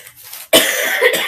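A single sharp, loud cough close to the mic, followed by a rough, lingering throat sound.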